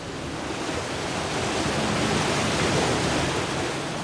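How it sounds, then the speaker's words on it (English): Water pours and churns over a nearly 40-foot cast iron mill wheel fed from a mill pond, heard as a steady, loud, broadband rush with no break and no voices. "That is how you take power from the pool or the mill pond onto the water wheel."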